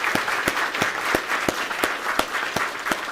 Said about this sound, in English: I want to give our veterans out there a round of applause as well